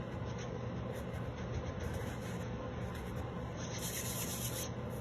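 Flour being rubbed by hand across a cutting board before biscuit dough is turned out, a steady close-up scratchy rubbing that continues for the whole stretch, loud and alone with no talk.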